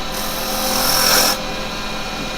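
A carbide woodturning tool cuts wood spinning on a lathe, a close, loud continuous rasping scrape that swells for about a second and then drops back to a lower steady hum of the machine.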